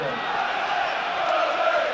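Stadium crowd at a Burnley v Everton Premier League football match, a steady broad roar of many voices filling the ground, constant and moderately loud with no distinct chants standing out.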